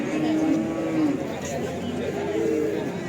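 Simmental cattle at a cattle market moo twice in long, low, drawn-out calls, with crowd chatter and market noise in the background.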